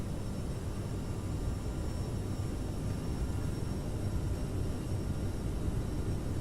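Aerosoft CRJ jet in Microsoft Flight Simulator at full takeoff thrust on the runway roll gives a steady, broad engine roar that stays even throughout with no talk.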